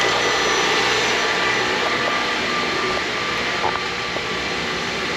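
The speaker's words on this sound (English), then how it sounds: "Engine RPM is staying high." Honda CR-V 2.4-litre engine stuck at a raised idle, a steady high-pitched drone and whine with a constant hum underneath, no voices.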